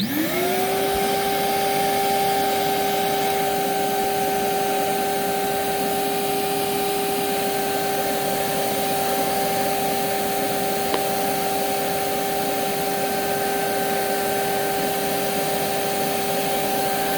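A Bissell Plus 3553 vacuum cleaner spins up within the first second and then holds a steady, loud whine with rushing airflow from its hose, unchanging until the end.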